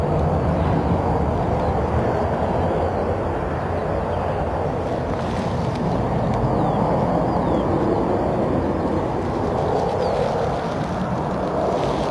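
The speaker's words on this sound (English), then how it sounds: "It's another Ryanair 737." A Ryanair Boeing 737 at Stansted Airport produces a steady, loud, continuous jet engine roar with broad rumble and hiss that holds for the whole stretch, heard at a distance outdoors with no talk.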